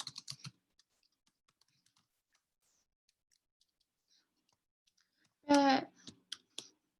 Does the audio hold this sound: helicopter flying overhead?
no